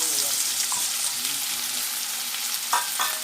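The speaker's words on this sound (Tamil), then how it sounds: "வெங்காயம் நல்லா வதங்கட்டும்" Sliced onions frying in hot oil for prawn (eral) thokku give a steady, close broadband sizzle throughout, with a few brief scrapes of stirring near the end.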